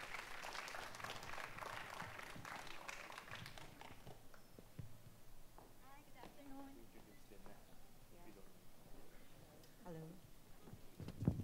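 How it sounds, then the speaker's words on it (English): Audience at a panel discussion on innovation and entrepreneurship in the Philippines applauds in a burst of clapping for the first few seconds, which fades out as a voice begins speaking over the room's quiet. "Please give them a big round of applause."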